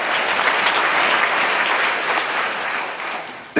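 A church congregation at a worship service bursts into lively, dense applause. It carries on steadily for a few seconds and then cuts off abruptly.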